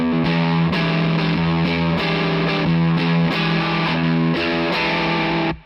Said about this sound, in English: So the fuzz sounds like this.